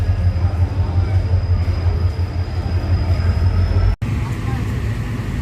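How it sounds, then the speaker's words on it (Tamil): A train near Jolarpet Junction rumbles steadily from the inside, a loud continuous drone with a thin high whine and a brief dropout near the end, with a voice faintly mixed in. "ஸோ ட்ரெயினில் ஏறியாச்சு."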